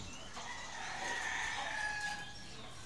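White Albany chickens on a farm cluck and crow, with one drawn-out rooster call rising in the middle over softer clucking, fairly close and with no voices.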